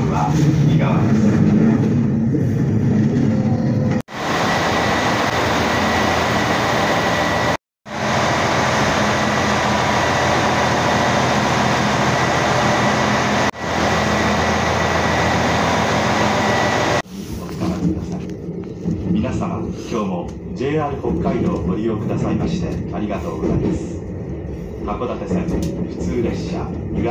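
Loud, steady rumble of a three-car rapid train running on rails near Sapporo, Japan, with cabin hum and a few abrupt cuts, followed by a quieter stretch with announcements.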